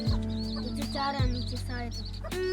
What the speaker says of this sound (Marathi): आहेत किती कोंबड्या आहेत दोन कोंबड्या